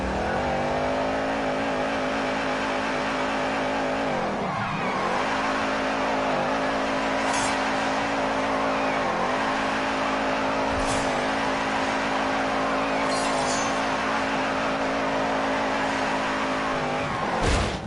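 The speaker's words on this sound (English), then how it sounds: "wheel spin. That just makes a huge amount of noise" Racing car in a PS4 video game spinning its wheels, a loud continuous engine drone with shifting pitch and screechy tire squeal bursts throughout, close and dense with no talking.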